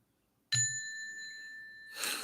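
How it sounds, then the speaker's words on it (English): A small hand bell struck once with a bright ding, its clear tone ringing and slowly fading for over a second before a soft rustle. "I'm going to ring my little bell here"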